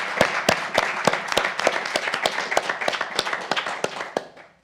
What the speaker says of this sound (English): Can we give the students a round of applause?